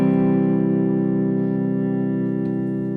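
Sustained chord from a Squier Bullet Strat electric guitar with the tone knob rolled back, played clean through a Boss Katana amp with light reverb, ringing steadily and slowly decaying over a few seconds with a faint touch near the end.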